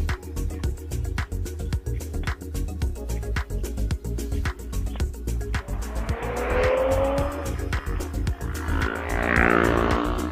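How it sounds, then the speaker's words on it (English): A car races past at speed with tires squealing hard through a bend on the Tail of the Dragon mountain road, heard over the steady drone of a Can-Am Ryker three-wheeler, the squeal rising loud near the end. "That car went around me like it was mad."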